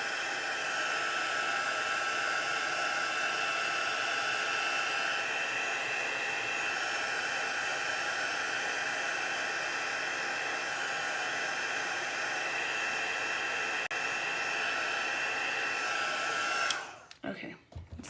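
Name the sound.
heat gun blowing hot air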